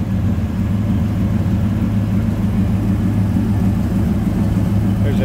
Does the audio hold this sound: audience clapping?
no